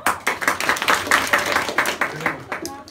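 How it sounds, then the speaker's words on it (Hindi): Students at an inter college adolescence education programme clap for three girls, a burst of lively clapping from a room full of people that fades toward the end as a voice starts to speak. "ताली बजाओ इन 3 बच्चियों के लिए जिन्होंने हाथ ऊपर किया"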